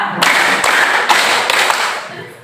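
A group claps sharply in time with a counted clap pattern, four distinct rhythmic bursts spaced roughly half a second apart, loud and close.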